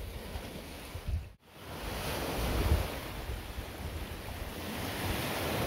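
Strong wind buffets the microphone by the sea, with surf roaring steadily underneath and a brief dip before the gusts return.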